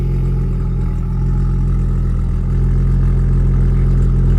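A cold Nissan Skyline R32 engine, held back by a temperature limiter, runs loud and close with a steady, throbbing low drone that barely shifts in pitch across the whole stretch.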